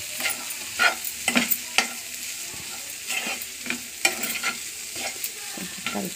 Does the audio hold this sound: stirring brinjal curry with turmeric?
yes